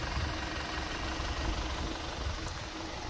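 An Audi Q5 quattro engine idles quietly, a low, even rumble with a faint steady hum that holds at constant level throughout, with no voices over it.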